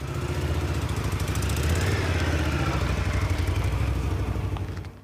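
Loud motorcycle engine rumbling steadily and close by, a deep throbbing drone with a rapid clattering pulse that holds for about five seconds before easing off at the end.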